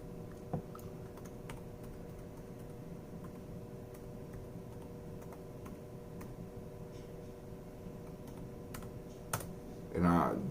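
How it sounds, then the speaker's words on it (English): Fingers type on a Chromebook keyboard in a continuous run of light, quick key taps close by, with a brief burst of voice at the very end. "I got to type the whole thing in or it won't show up."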